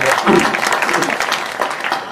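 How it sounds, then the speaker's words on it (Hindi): A crowd at a Hindi comedic poetry recital claps loudly and continuously, a close, dense patter of hands with a voice briefly rising over it near the start. "एक बार मुझे ताली बजाकर अनुमति दे दीजिए"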